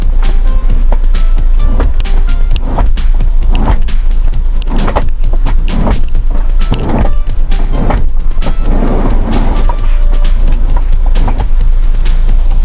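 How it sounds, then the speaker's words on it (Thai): A powered VIP seat in a Hyundai van, a Hyundai Solati, whirs as its electric motor adjusts it, giving a steady close hum with a few soft clicks and thumps and no talk. "เวลาเราจะปรับเบาะเนี่ยเราสามารถปรับได้ทุกระดับเดี๋ยวผมสาธิตให้ดูนะครับ"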